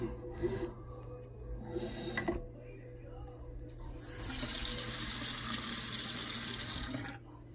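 A Moen Brantford U by Moen smart pulldown kitchen faucet (7185EVC) gushes water into a newly installed sink, a steady loud rush for several seconds after some breathing and handling noises.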